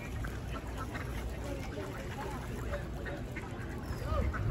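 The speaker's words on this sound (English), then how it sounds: "There's ducks galore on that hill straight across" Many ducks quack at a distance on a high hillside near Lake Arrowhead, a continuous chorus of overlapping calls under a steady outdoor background.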